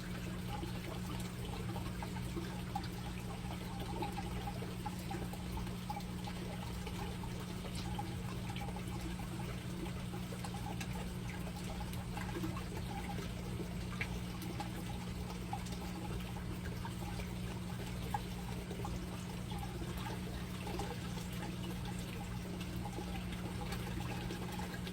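Steady, quiet trickle of water running through a homemade plant grow bed watering system, a continuous faint flow with a low hum beneath it and no voices.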